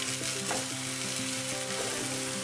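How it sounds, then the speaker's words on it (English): Onion, ginger, garlic and potatoes fry in a pan, a dense, constant crackling sizzle heard up close throughout with a few stirring scrapes and no voices. "I'm gonna fry the onion off. Ginger, garlic and potatoes"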